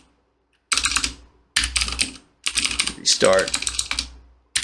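Computer keyboard typing a sudo firewall command on a Linux system, four quick bursts of clattering keystrokes separated by short pauses, close and clear, with a brief spoken word in the middle.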